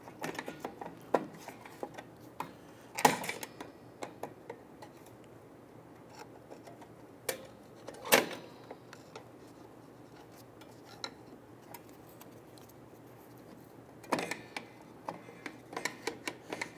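Drum brake adjuster wheel on a 2000-2006 Toyota Tundra being turned with a flathead screwdriver, giving a run of small metallic ticks and clicks with a few louder clacks, close and fairly quiet.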